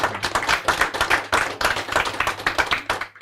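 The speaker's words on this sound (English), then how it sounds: "I want to invite us to now clap." An audience at a peace forum bursts into brisk, dense clapping that carries on for several seconds, loud and fairly close, with no talk over it.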